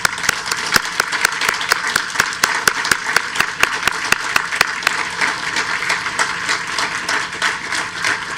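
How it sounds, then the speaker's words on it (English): Graduates and guests at an evening graduation ceremony give a round of applause, many hands clapping steadily with sharp individual claps standing out, sustained and fairly close throughout. "join me in a round of applause."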